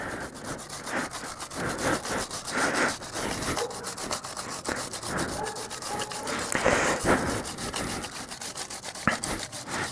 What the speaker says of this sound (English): you're going to start right here, and you're just going to scrub it